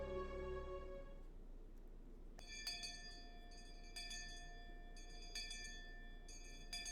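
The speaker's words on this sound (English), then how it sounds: "I heard the ring of the bell declaring the end of lunch break" A school bell in the Higurashi visual novel rings out at the end of lunch break, a series of bright metallic chimes over a faint steady hum, with no voices.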